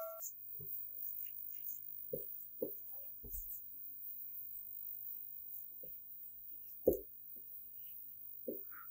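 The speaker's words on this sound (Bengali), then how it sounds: "আবার লিখলাম ফুলকুমারী" Chalk or marker writing on a board during a Bengali grammar lesson, faint scattered taps and short scratchy strokes in a quiet room, with a few sharper knocks.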